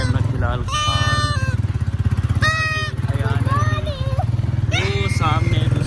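A motorcycle engine chugs steadily under riders out on patrol in Pakistan on Independence Day, a loud continuous rumble beneath shouting, whistling and horn-like voices from the street crowd.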